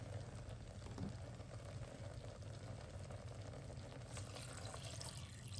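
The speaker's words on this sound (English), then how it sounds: "I'm going to add water up to my max fill line, and I'm using filtered water out of my refrigerator" Filtered water from a refrigerator dispenser runs steadily into an Instant Pot inner pot, a faint continuous splashing hiss that brightens toward the end.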